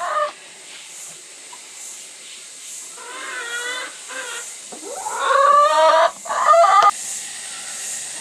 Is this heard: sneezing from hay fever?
no